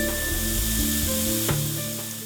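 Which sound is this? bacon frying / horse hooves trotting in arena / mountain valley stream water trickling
bacon frying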